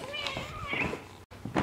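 A cat meows a few times close by in a kitchen, brief tonal cries mixed in with a person talking.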